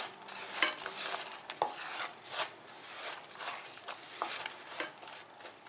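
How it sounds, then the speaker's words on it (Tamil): Flour is being mixed by hand with roasted gram, cardamom powder and roasted coconut for porivilangai urundai sweets, a run of close, repeated rubbing and scraping strokes at an uneven rhythm, no talk. "இப்போ நல்லா கலரி விட்டுக்கிறேன்"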